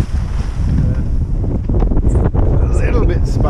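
Gusty sea wind roars steadily across the microphone on a small Twister sailboat sailing single-handed in 15 to 20 knots, with waves and water rushing around the hull throughout.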